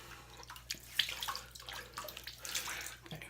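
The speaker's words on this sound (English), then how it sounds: "we're going to start by just wetting the face." Water splashes and drips at a sink as someone wets their face with their hands before shaving, a run of soft irregular splashes up close with no talking.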